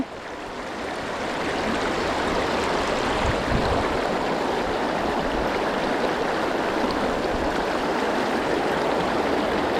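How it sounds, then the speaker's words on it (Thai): Water rushes steadily in a broad, constant wash, loud and close, with no voices. "ตรงนี้น้ำไหลครับผม"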